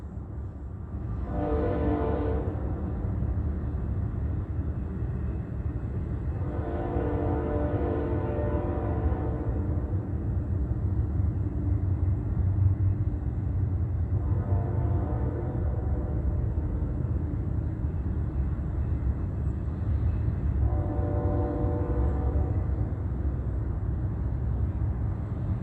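Train horn sounding four times in long, separated blasts over a steady rumble of rail traffic, moderately distant, with no talk.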